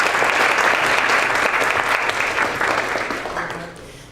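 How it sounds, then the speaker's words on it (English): Audience at a lecture on Alzheimer's disease prevention and management breaks into sustained applause, a dense wash of many hands clapping at close range that holds steady and then tapers off near the end. "I think she deserves a round of applause"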